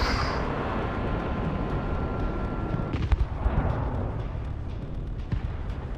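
Missile strikes in the Broken Arrow war video game, a heavy rumbling explosion with a sharp crack near the middle, followed by lingering low roar and scattered distant bangs.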